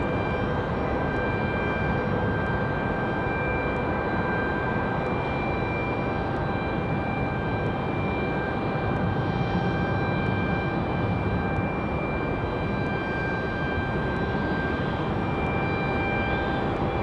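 An airliner arriving at Raleigh Durham airport, a loud, steady jet engine roar with a constant whine that holds evenly throughout, with no talking over it.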